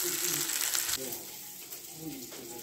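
A breaded chicken fillet, coated in flour, egg and breadcrumbs, crackles and sizzles in hot oil in a frying pan, a soft, steady hiss close by that eases slightly partway through.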